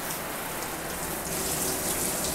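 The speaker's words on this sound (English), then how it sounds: "the more of a rain shower experience it's like, where this is just like, this is dumping like buckets." A Speakman S-2252 brass Icon fixed shower head sprays water heavily in a steady, broad hiss like pouring rain, loud and constant throughout.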